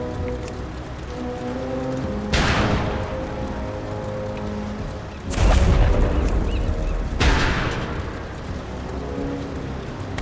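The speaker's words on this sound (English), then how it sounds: "They've got cannons firing in opposition!" Cannons fire in a World of Warcraft Dragonflight battle, three heavy booming blasts spaced a few seconds apart, each with a sharp attack and a rumbling decay over a continuous background of game noise.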